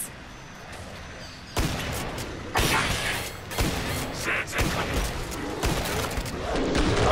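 Gunfire from Killing Floor 2 comes in several loud bursts that start abruptly and run in uneven waves with dense, crackling texture.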